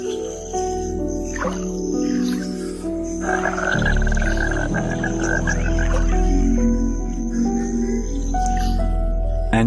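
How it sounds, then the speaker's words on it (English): Frogs call in a wetland, a layered chorus of croaks and trilling notes holding steady and fairly loud throughout, with insect-like buzzing mixed in and no voices. "the vocal frog also provides this watery habitat with its characteristic soundscape"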